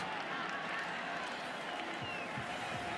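Stadium crowd at an NFL game between the Bears and Cowboys, a steady dense roar of cheering and noise filling the whole stretch, broad and distant with no standout claps.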